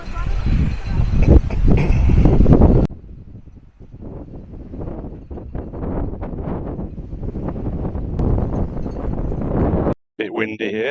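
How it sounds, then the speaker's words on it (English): Strong gusty wind at a beach in Armação de Pêra, Portugal buffets the microphone in loud roaring bursts, easing briefly then returning as a steady blustery rush outdoors. "Bit windy here, if you can still hear"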